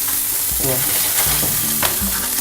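Dorado fish sizzles and fries in a hot pan, a dense, steady crackling hiss that fills the clip, with a few louder spits and stirring bumps as the fish is turned.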